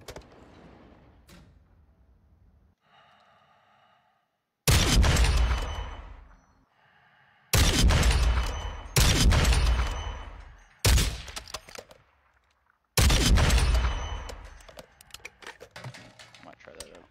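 Bursts of FJX Blast gunfire in a first-person shooter video game, several loud, sharp volleys separated by quieter gaps where a voice talks softly.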